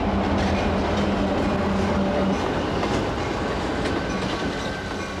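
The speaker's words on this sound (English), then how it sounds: "Kids love trains, and for good reason." A train running along rails, with a continuous loud rumble and clatter of wagons rolling past close by, and a low tone fading out midway.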